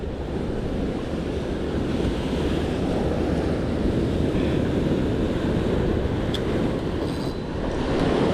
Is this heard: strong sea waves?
yes